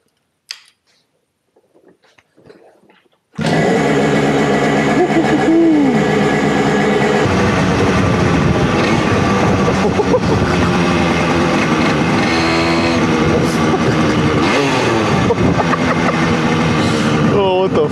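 A Yamaha RD50dx moped, freshly fitted with an HPI 2Ten ignition, kicks into life after quiet handling noises and then runs loud and close for a test ride, its small two-stroke engine buzzing and rising in pitch as it revs.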